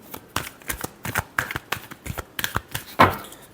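Tarot cards being shuffled by hand, a string of crisp riffling flicks and slaps in quick irregular bursts, close and fairly loud with no talking.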